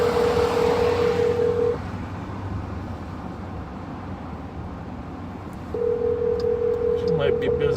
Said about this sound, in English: I'm gonna try to call Shay, see if she'll answer the phone